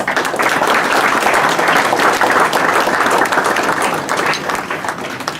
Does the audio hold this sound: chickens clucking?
no